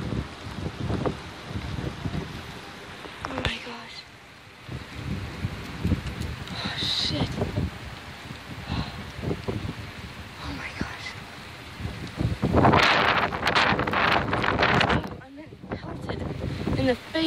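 Strong, gusting wind from a hailstorm buffets the microphone in loud, roaring surges, with a fierce burst late on; excited speech cuts in and out beneath the roar.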